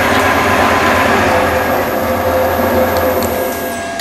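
A metal lathe spindle runs at speed up to 2500 RPM, giving a loud, steady whirring drone with a faint high whine that holds throughout and eases slightly at the end.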